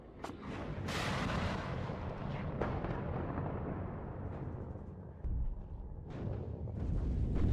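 Artillery fire in the WARNO war game: a run of heavy booming gun reports with rolling, rumbling tails, loud and close, with sharp new blasts landing over the lingering roar.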